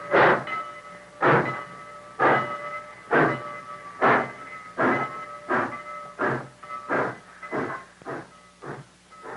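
A steam train chugs in a steady rhythm of loud exhaust puffs, about a dozen beats that quicken slightly, with a sustained whistle-like tone humming beneath them.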